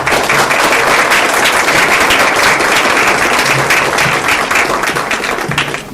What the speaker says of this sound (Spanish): Un cordial aplauso, maestro.